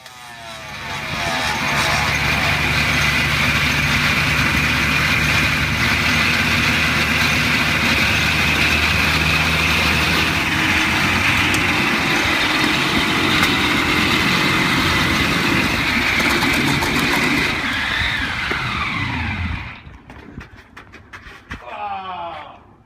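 Homemade 48-cylinder motorcycle engine running in a garage, a loud, dense, steady roar held for about twenty seconds before it drops away and turns rougher near the end.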